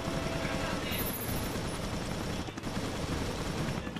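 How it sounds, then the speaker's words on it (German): Rapid gunfire bursts from Resident Evil Revelations, dense and continuous across the whole span under a low rumbling game soundscape, with voices faintly mixed in. "Ich glaube, lass mich schießen"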